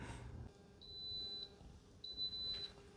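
Instant Pot Duo Nova 10-quart pressure cooker cooking a chuck roast gives two thin, high electronic beeps when its timer ends, each held about half a second, fairly quiet over a low background hum.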